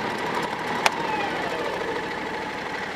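A riding lawn mower engine settles into a steady idle, a continuous mid-pitched drone held close by with a brief sharp click partway through.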